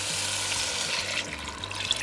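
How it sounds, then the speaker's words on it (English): Canned tomatoes and water pour into a soup pot of softened onions for beef barley soup, a soft sizzling, splashing wash with faint low stirring clunks, quiet and continuous without speech. "Now we're going to add that can of tomatoes. Put it all in there along with the water."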